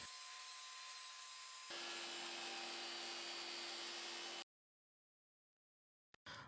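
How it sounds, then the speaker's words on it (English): An L-shaped aluminum profile is cut to size with a harsh, sustained rasping and whining tone that grows denser partway through. It then stops dead into silence before a brief burst at the end. "I'll cut this L-shaped aluminum profile to size"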